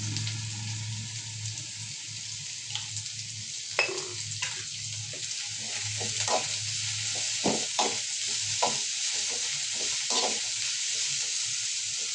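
Carrots and other vegetables sizzle in a pan, a steady frying hiss under repeated scraping stirs and light clinks of a spoon against the pan, close by.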